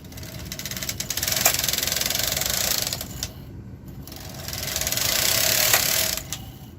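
A KH 230 knitting machine carriage sweeps across the bed, knitting rows with a rapid mechanical clatter. Two passes swell and fade, separated by a short pause, close and fairly loud with no talking.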